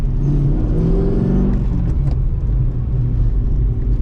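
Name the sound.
Mercedes W203 C55 AMG engine revving, jumpy throttle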